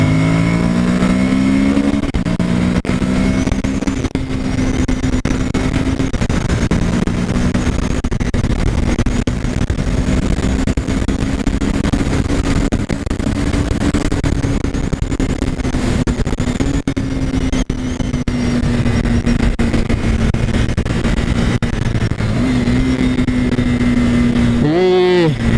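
Monster motorcycle engine lapping the Interlagos racetrack, a loud continuous drone with gentle pitch rises and falls as it holds speed, mixed with heavy wind rush and a brief rev near the end.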